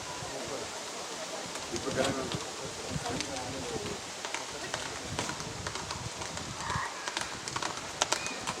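Horse hooves clop and thud through a horse race, with irregular beats over a rustling outdoor background and busy crowd noise, with people talking throughout.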